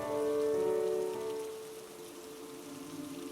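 Heavy rain pours steadily outside a hotel lobby during a wild storm, a dense continuous wash with a faint tonal hum beneath, louder at first then settling to a constant patter.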